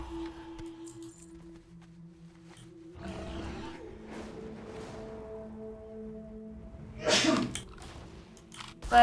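A single sneeze bursts out around the middle of a quiet stretch during a World of Warcraft stream, with faint game sounds and hum around it.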